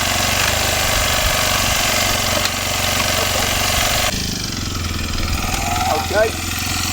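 A road motorcycle idles steadily with a chugging mid-range engine note close by, and the tone shifts partway through as first gear is engaged while stationary during a riding lesson; a voice speaks over it.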